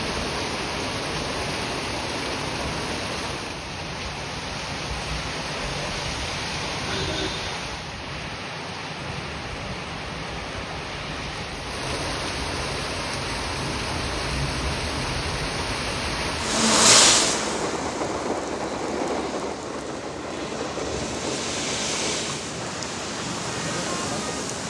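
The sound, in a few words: heavy rain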